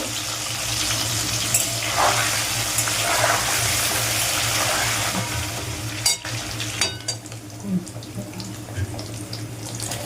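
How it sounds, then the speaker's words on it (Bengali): Paneer pieces lightly frying in a pan give a steady, close hiss and sizzle for most of the stretch, fading toward the end as a few utensil clinks sound. "পনিরগুলোকেও ভেজে নেব বেশি লাল লাল করে আমি ভাজবো না হালকা ভেজে নেব"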